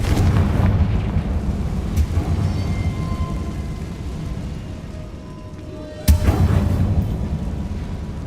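In the Hogwarts Legacy video game, a Confringo fire spell goes off in a catacomb as one sudden, sharp explosive blast partway through, over a steady rumbling game ambience.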